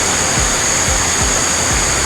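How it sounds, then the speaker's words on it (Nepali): Rain falling outdoors during a break from splitting firewood, a dense steady hiss of rainfall with a few soft dull thumps underneath. "पानी पर्न थालिसक्यो यार"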